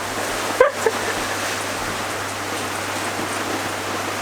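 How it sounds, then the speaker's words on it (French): Steady rain hisses throughout, with a couple of brief clattering knocks near the start. "Reste là, il pleut."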